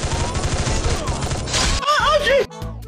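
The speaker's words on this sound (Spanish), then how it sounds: "Le disparo." Gunfire in the Free Fire battle royale game, dense rapid shots blending into a continuous barrage with a sharp break near the end, loud and close.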